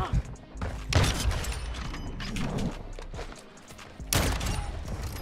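Gunfire in Modern Warfare 2 multiplayer, with loud bursts of shots and booming reports arriving in separate volleys, the first near the start and another close to the end.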